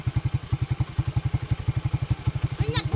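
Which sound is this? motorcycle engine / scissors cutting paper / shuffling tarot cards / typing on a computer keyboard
motorcycle engine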